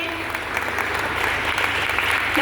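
Audience applause at a women's welcome gathering, dense continuous clapping from many hands at close range, with a voice faintly under it.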